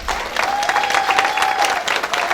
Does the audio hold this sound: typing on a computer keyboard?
no